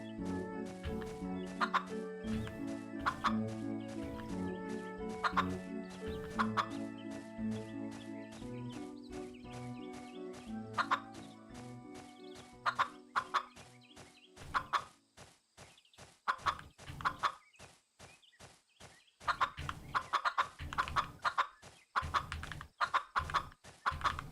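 Chickens clucking in the farming video game Sunflower Land, repeated short clucks over bright looping game music, with the sounds growing more scattered and percussive in the second half.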